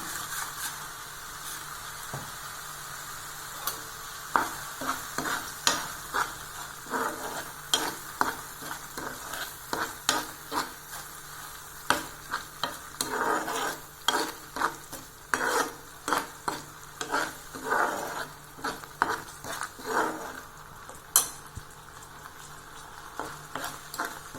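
Green grape jam with jaggery thickens in a pan as a spoon scrapes and stirs it again and again, giving rhythmic close scraping strokes over a low bubbling sizzle, with no speech.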